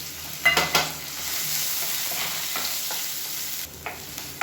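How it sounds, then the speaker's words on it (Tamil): Grated coconut and onions sauté in a hot pan with a steady sizzle, broken by a few sharp stirring scrapes and clinks, with no talking. "தேங்காய் சேர்த்து நல்லா வதக்கியாச்சு"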